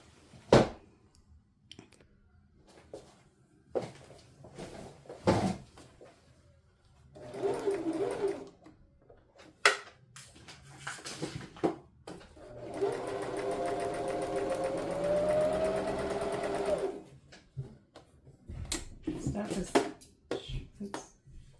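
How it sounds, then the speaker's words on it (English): A sewing machine stitches around the fraying edge of brocade fabric, with one long steady whirring run near the middle, close and clear, framed by scattered clicks and handling noises of the fabric. "I'm just going to stitch around the edge at 3/8 of an inch to secure it in place"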